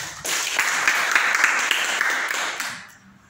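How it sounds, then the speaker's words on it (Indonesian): Congregation clapping during a church sermon: a loud, dense burst of applause that holds steady for about two and a half seconds, then quickly dies away. "Coba tepuk tangan buat Tuhan Yesus."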